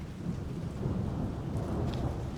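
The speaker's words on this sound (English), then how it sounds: "I can hear the thunder." Low, steady rumble of thunder ahead of an approaching rainstorm on a loose dirt trail ride near Nundle, continuous and fairly loud throughout with no talking.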